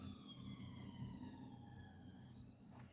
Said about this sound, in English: Is it the police or is it an ambulance?